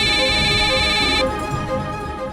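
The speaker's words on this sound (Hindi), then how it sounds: "ये फिर फोन करने लगा। अब तो वीडियो कॉल कर रहा है।" A mobile phone rings with an incoming video call, a steady electronic ringtone that plays for about a second and then cuts off, heard indoors at moderate loudness over faint background noise.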